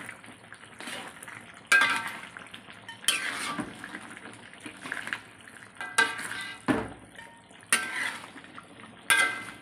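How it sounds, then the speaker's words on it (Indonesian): Spoon scraping and clattering against a cooking pan while stirring rica-rica, a spiced Indonesian dish, in repeated bursts of metallic scrapes over a soft background sizzle, close and with no talking. "Kita aduk-aduk dulu."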